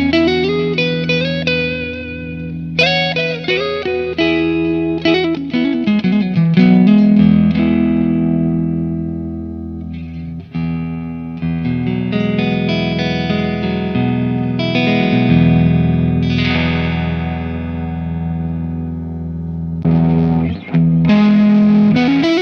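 A Vola OZ Strat-style electric guitar with a Gotoh tremolo, played through effects with distortion and chorus: sustained chords and picked notes ring out loudly with reverb tails and brief pauses, no talking.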